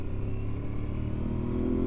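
An Aprilia Tuareg 660 motorcycle climbs mountain switchbacks, its engine droning loud and steady with a constant rumble and road noise throughout.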